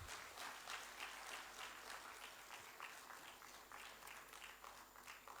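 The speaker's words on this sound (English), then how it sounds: "The clap must go on." Steady applause from an audience during a felicitation ceremony at an academic meet in Lok Seva Bhavan, Bhubaneswar, a soft, distant-sounding patter of many hands clapping that continues evenly throughout without speech.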